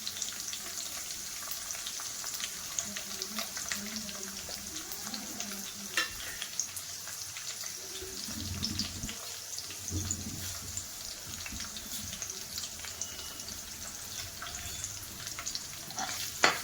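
Green chillies and crushed garlic frying in oil for dal, a steady close sizzle with occasional stirring scrapes and light clinks, running continuously throughout with no talking.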